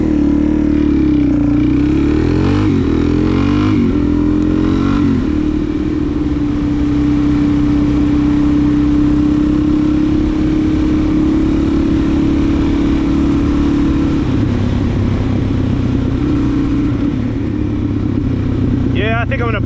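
Suzuki DRZ 400 SM supermoto engine droning steadily on a morning ride, with shifting pitch early and a brief rev near the end, wind rush and the rider talking over it.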